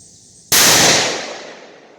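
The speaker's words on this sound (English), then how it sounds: "Okay, so for the third and final shot of 66 grain." A 7mm Remington Magnum rifle fires a single shot with a 66 grain load during load development. The report is sudden, sharp and very loud, and its reverberating tail fades over more than a second, with no voices.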